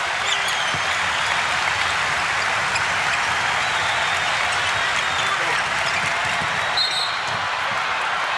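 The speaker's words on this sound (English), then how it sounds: "the crowd starts to hoot and holler in Orlando" Basketball arena crowd in Orlando hooting and hollering during the final period of a 1989 Magic versus Pistons game, a steady broad roar with squeaks and bounces near the court.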